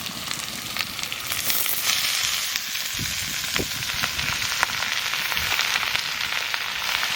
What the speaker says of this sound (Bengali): হানে লাউ শাক ভেজে নেব।